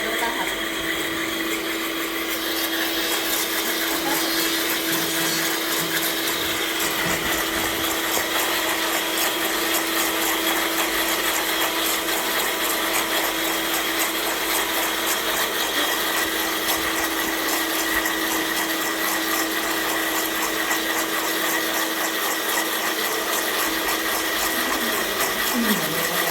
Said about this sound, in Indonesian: Setelah 20 menit di mixer